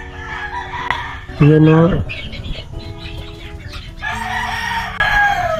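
Chickens cluck and a rooster gives a loud, close crow midway, with more fowl calls scattered around it, while people talk casually over the farmyard sounds at a holiday home in Davao City.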